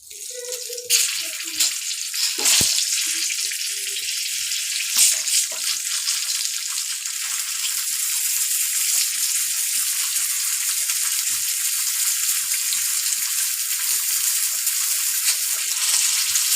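Apple pieces frying in hot oil in a pan for chutney, a steady broadband sizzle that starts loudly and holds evenly throughout, with a few brief clatters early on and no talking.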